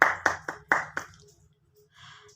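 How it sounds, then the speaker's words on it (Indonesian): Classmates in a classroom give a short round of applause for a student, a few sharp claps close together that quickly fade into quiet with faint murmuring. "Yang lain beri tepuk tangan kepada Naruto Uzumaki karena sudah berani maju ke depan"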